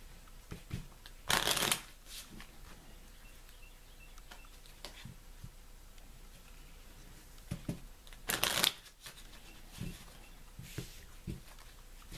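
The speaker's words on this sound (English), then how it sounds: "So I'm shuffling the cards" Two distinct bursts of Lenormand cards being shuffled, one early and one later, each a brief crisp riffle. Quiet room tone and small handling taps fill the gaps between them.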